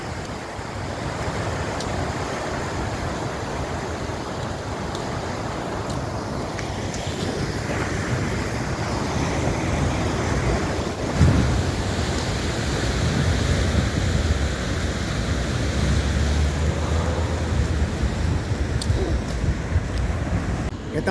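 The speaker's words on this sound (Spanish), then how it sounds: "con el sonido al mar" Continuous roar of surf washing in, heavy and close, mixed with gusty wind buffeting the microphone.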